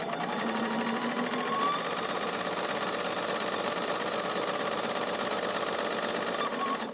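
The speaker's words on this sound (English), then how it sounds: "Then I can cut and stitch the other side." Sewing machine stitching a quilt block, a fast, even mechanical whir with rapid needle ticks running steadily and close throughout.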